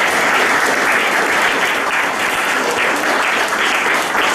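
Audience applause welcoming a speaker to the stage at a Houston design panel event, steady dense clapping filling the room throughout without a break.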